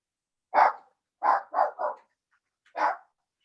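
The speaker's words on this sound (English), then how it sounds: "Linda, whoever it is with the dog barking" A dog barks four to five times in short, fairly loud bursts, three of them in quick succession, with silent gaps between and no talk.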